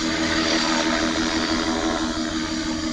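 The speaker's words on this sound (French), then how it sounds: "il y a un vrai hélico qui arrive" An actual helicopter overhead gives a loud, steady, droning rotor and engine roar that holds constant throughout, with no talking.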